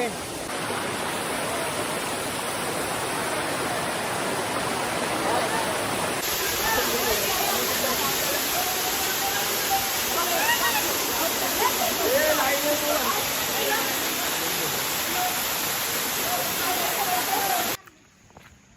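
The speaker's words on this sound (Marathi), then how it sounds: "फायनली धबधब्यावरती पोचलो" Pahine waterfall near Nashik roars as a constant, broad rush of falling water, loud and steady for most of the time before cutting off abruptly near the end; talk may run faintly beneath it.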